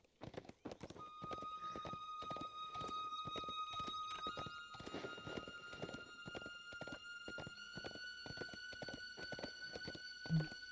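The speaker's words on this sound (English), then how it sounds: "Ready the horse at Pendluck's farm." Hooves of a horse in Lord of the Rings Online clip-clop in a steady walking rhythm of close, crisp repeated strikes under sustained tonal game music, with no speech.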